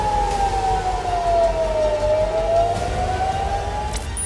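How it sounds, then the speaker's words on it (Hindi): An air raid warning siren wails over Tel Aviv during rocket fire, a single steady tone slowly sliding down and back up in pitch, heard continuously at a distance above a low rumbling background. "तेल अवीव में भी खतरे का सायरन बजता रहा"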